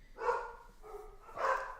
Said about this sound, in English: I like that he's barking even though he's not even close to them.